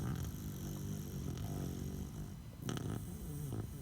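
Low, rumbling snoring from a sleeping animal, a few slow breaths close by, with soft rustling noises in between.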